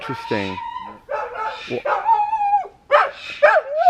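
A dog yips, whines and barks in short bursts close by, mixed with people talking and a parrot screaming nearby.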